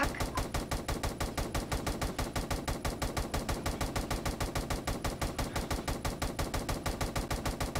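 Rapid, evenly spaced gunfire from a weapon in an SCP horror video game, a continuous loud stream of shots with no pauses, no talk over it.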